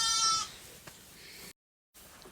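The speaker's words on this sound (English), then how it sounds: "an entire audience of sheep over here watching me and observing me" A sheep on a dairy farm lets out one loud, wavering bleat close by at the start, followed by quieter farm background and a short silent gap.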